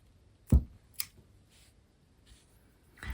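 Scissors snipping a thread tail in beadwork, with a sharp close snip followed by a smaller click and a few faint taps, then another snip at the end.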